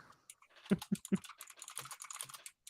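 A quick burst of typing on a computer keyboard, with a few louder key strikes followed by a rapid, lighter patter of clicks, close and alone.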